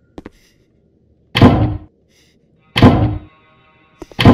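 In a horror video game set in a school, a barricaded door takes three heavy, spaced thuds, each a loud close impact with a short rattle, separated by near silence.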